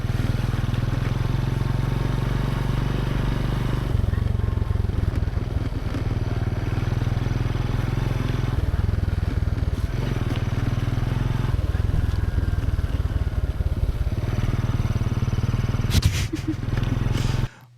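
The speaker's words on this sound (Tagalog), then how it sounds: "Motor." A motorcycle engine runs steadily nearby, a loud low rumble with slight shifts in pitch that sounds for the whole stretch and cuts out abruptly at the end.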